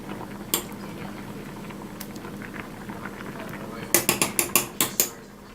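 A gas stove igniter clicks rapidly, about seven sharp ticks in a quick run, following quieter kitchen clatter and a low background hum.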